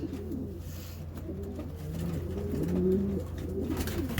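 Racing pigeons in a loft coo repeatedly in low, overlapping throaty calls that keep up steadily and build slightly louder near the end, close by with no talking.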